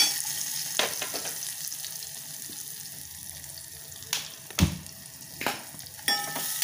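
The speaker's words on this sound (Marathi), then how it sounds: "कांदा चांगला परतून घ्यायचा आहे." Chopped onions fry in a pan after green chillies for a fresh coconut vegetable dish. A soft continuous sizzle is broken by several sharp scraping stirs, fairly close and with no talking.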